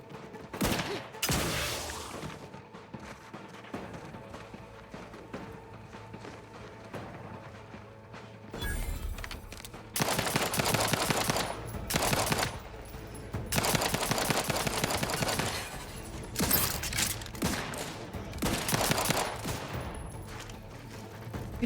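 Gunfire in The Outer Worlds 2: scattered single shots early on, then sustained heavy volleys of rapid automatic fire in bursts, loud and close.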